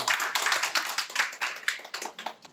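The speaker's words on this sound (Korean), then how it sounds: "박수로 부탁드립니다" An audience at an export consultation session on Korean smart farms entering Kazakhstan claps to welcome a presenter. It is a short, moderately loud patter of many hands with uneven, scattered beats that taper off.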